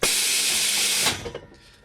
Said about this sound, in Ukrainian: Ось цей механізм самостійно заштовхує їх у ствол